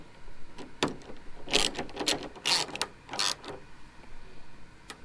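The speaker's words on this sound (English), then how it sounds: "Now let's just tighten these up" A ratchet tightens the carbon fiber wing mount bolts on a Toyota 86 track build, giving a handful of quick, crisp clicking strokes in short bursts, close and fairly quiet, with no talking.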